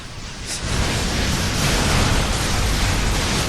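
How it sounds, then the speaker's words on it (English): Explosions in the video game inFamous roar as a sustained, loud, broadband blast of rumbling noise that starts sharply and fills the whole stretch. "Even clearing causes explosions."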